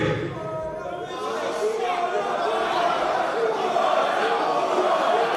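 Crowd at a wrestling show in London, a steady murmur of chatter and scattered calls with occasional laughter, moderately loud and continuous.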